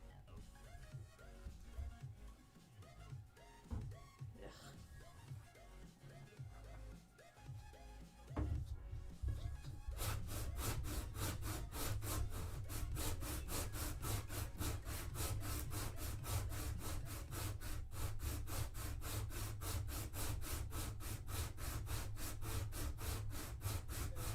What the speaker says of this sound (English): it's kind of important to sand resin